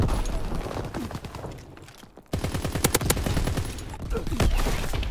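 Gunfire in a video game, rapid automatic bursts and scattered shots forming a continuous loud barrage that breaks briefly and resumes, with a voice talking over it.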